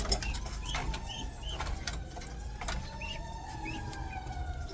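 Racing pigeons cooing softly in a loft, several low repeated coos under faint background noise and a distant siren-like tone, no talking.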